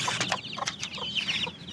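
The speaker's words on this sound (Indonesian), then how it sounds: "Ni ayam kampung." Kampung village chickens cluck in short, repeated calls at close range, mixed with higher chirps, with no talk over them.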